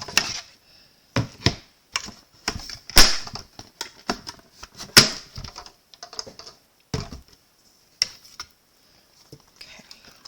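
Card stock in an embossing folder cranked through a manual embossing machine, a series of sharp clicks and crunching snaps at irregular intervals, close and quiet between bursts.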